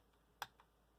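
Two key presses on the keyboard of a Wyse WinTerm thin client, a sharp clear click followed by a softer one, alone in a quiet room.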